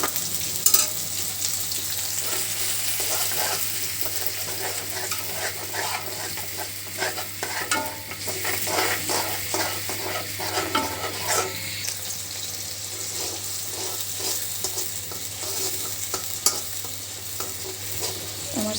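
Masala spice paste frying in a pan with a continuous sizzle, punctuated by repeated scraping and stirring strokes of a spoon, alone without talk.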